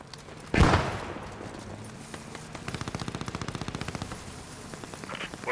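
Gunfire rattles in the Post Scriptum video game, with one loud close shot followed by long bursts of rapid machine-gun fire at a steady rhythm, somewhat distant, and no talk over it.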